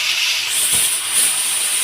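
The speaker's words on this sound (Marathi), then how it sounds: "सहा ते सात शिट्ट्या होण्यासाठी कुकर मी गॅसवरती ठेवून दिलेला आहे" Steady high-pitched hiss of escaping steam from a pressure cooker whistle on a gas stove, cooking chickpeas, running continuously and fairly loud with no other sounds.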